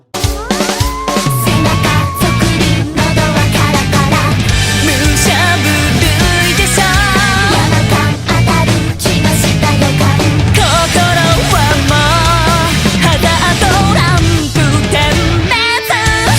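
A modern rock song plays at full volume through its bridge and pre-chorus, with dense drums, guitars and vocals filling the whole stretch.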